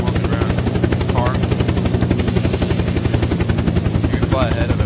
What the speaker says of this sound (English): I'm gonna get to the back seat, hit F1, and take control of the chopper.